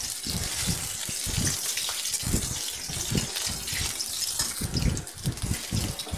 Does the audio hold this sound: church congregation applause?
no